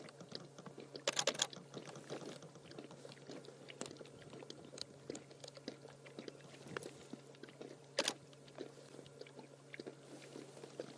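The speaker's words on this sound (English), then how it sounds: "You can hear that slurping" Soft, steady lapping and slurping of a lion drinking water, faint and continuous, with a couple of louder splashy gulps.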